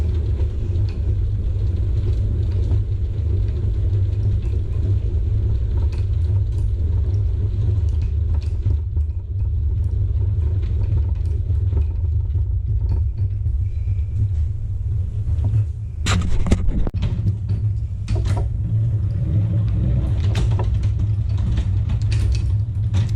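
A honey extractor spins frames of honeycomb, giving a continuous low mechanical rumble and hum that holds steady and close, with a few rattling knocks near the end as the unbolted drum wobbles.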